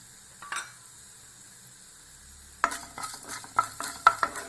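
Sliced onions and chana dal go into hot oil with popped mustard seeds, starting a sizzle after a quiet pause, then several sharp scraping stirs against the pan.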